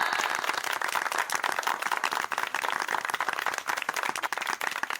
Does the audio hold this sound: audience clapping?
yes